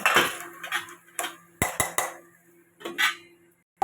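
A lid set over a pot of chicken curry makes a few sharp metallic clanks and clinks, close by, in short separated bursts with quiet gaps between them.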